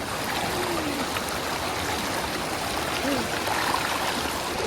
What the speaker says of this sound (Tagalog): At nandito pala ako ngayon sa ilog.